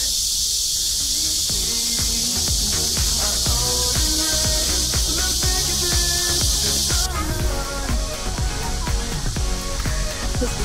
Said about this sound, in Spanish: Las cigarras.